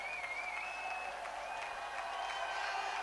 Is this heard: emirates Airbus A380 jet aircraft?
no